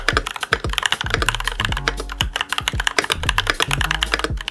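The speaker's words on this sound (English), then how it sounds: "I'm in love with the great quality, retro look, and thocky sound and tactile feel." Quick, continuous typing on a Yunzii YZ75 mechanical keyboard with pre-lubed Gateron G Pro brown tactile switches, a close, thocky patter of keystrokes with occasional deeper bottom-out thumps, heard alone.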